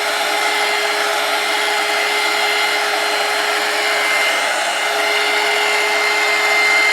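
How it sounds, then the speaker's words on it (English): A heat gun blows hot air to dry paint on a purple tin, producing a steady, loud, even whooshing roar with a faint constant whine, running alone without any voices. "we're just going to dry this paint really quickly, and it dries very quickly with this heat gun."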